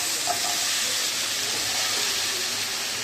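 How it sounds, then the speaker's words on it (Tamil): Six tomatoes sauté in oil in a pan, giving a steady, even sizzling hiss that holds without a break from start to finish, close and moderately loud with no talk. "இதையும் நல்லா வதக்கிட்டுக்கலாம்"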